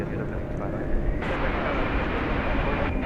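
A UPS Boeing 747-8 cargo jet from 2018 roars at DFW Airport on a winter night, its engines a loud, sustained rumble with a broad noise wash that swells slightly midway and holds steady throughout.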